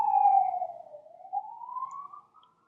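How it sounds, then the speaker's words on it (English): An emergency vehicle siren wails alone, a single smooth tone falling and then rising slowly, moderately loud, fading out as it passes by. "I'm waiting for that siren to pass"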